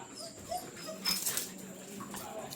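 A restless dog whimpers in short, faint whines and yips, several brief cries over a quiet outdoor background.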